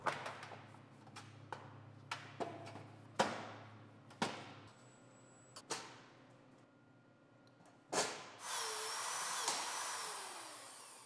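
Sharp metallic clicks and thuds repeat irregularly as Butler lock rivets anchor an MR-24 ridge panel to the ridge retainer, ending in a sustained powered tool whir.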